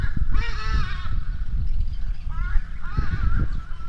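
A bird, apparently a goose, honks outdoors in a few rough, nasal calls, one burst early and another later, over steady low background rumble.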